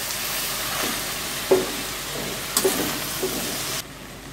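Ponnanganni spinach sautés in a pan over a low flame, a soft continuous sizzle punctuated by a few scraping stir strokes, close and without speech, ending abruptly.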